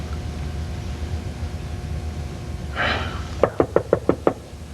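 Knocking at a door indoors: six quick, sharp raps in a steady rhythm over a low background hum.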